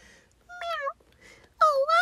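A voice imitates a small kitten's meow, giving two drawn-out, nasal mews close to the mic with a short pause between them, like a storyteller acting out the little cat.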